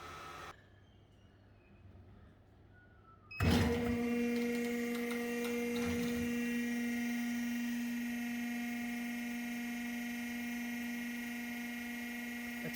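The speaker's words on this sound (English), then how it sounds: "That's a hydraulic tilt." An Iopak iWOK 500 gas-fired wok mixer tilting up on its hydraulic mechanism: after a quiet stretch a sharp clunk starts a steady mechanical whir with a strong tonal hum that holds and slowly fades, close and loud.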